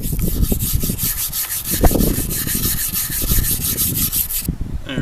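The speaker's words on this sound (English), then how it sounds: "give the gun a scrub again" A rusty 1910s pop gun being scrubbed with rapid back-and-forth rubbing strokes, a steady close abrasive swishing that runs for several seconds and then stops.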